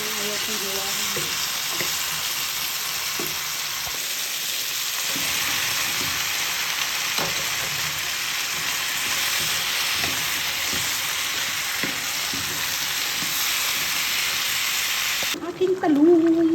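Okra frying and being stirred in a hot pan, a steady loud sizzle and hiss running throughout with occasional scraping stirs, close and continuous.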